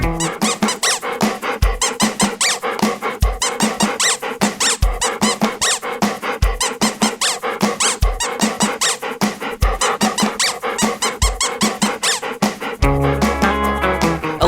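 Squeaky dog toy squeezed again and again in a quick rhythm, its sharp squeaks layered over dense music, close and loud throughout, with a pit bull nearby.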